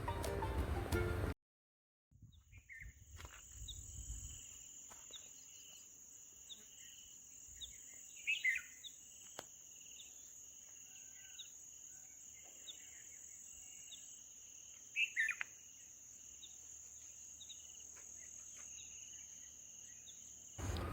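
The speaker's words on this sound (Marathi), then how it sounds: "त्यात पक्ष्यांचे मोराचे आवाज तुम्ही ऐकू शकता" Quiet countryside at Pabe Ghat near Pune with a constant high insect drone, broken by two loud peacock calls a few seconds apart.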